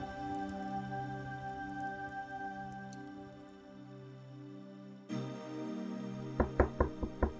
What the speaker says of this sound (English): I woke up late the next afternoon to a knock on the door.